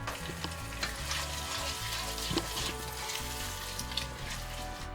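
Onion frying and being stirred in a pan over lowered heat with salt added, a steady dense sizzle running throughout with a few scraping stirs, close and moderately loud, no talking.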